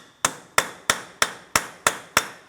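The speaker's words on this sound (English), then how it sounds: "I'm using a hammer and punch directly in the center of the axle" Hammer driving a punch against the center of a front axle on a 2004-2008 Pontiac Grand Prix during ball joint replacement: seven sharp metallic strikes at a steady, even rhythm, close and loud, with no talking.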